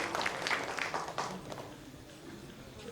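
An audience at a family-association gathering claps after a dance performance, a diffuse, fairly faint patter of applause that gradually fades, with a voice speaking over it.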